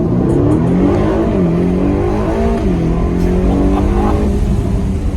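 A 2024 Aston Martin DB12 engine in Sport Plus mode, heard through open windows from inside the cabin, loud and steady, with the revs rising and dropping as it accelerates through a corner.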